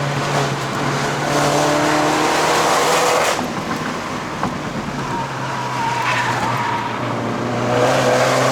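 Tires of an F56 MINI John Cooper Works squeal loudly through mountain bends on the Genting road in Malaysia, with a continuous engine drone and repeated screeching as the car corners hard.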